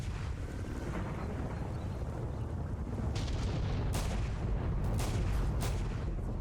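Gunfire and cracks from the shooter game STALKER Zone Expanded sound as several sharp reports over a dense rumbling background, the shots clustering in the second half.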